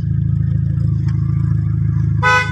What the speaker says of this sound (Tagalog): Check natin yung busina